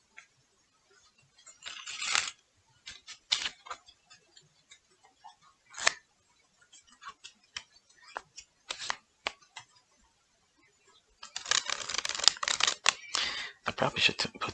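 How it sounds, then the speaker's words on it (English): Playing cards being shuffled and riffled in bursts, soft flicks early on, then a longer rapid flurry of card snaps near the end, close by. "someone's going to hear me shuffling"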